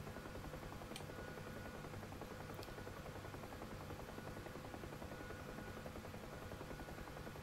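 A fleet of KA-50 helicopters in a VR flight game produces a constant, even rotor drone with broadband whine that holds steady throughout, faint and uninterrupted, with a couple of brief clicks near the start.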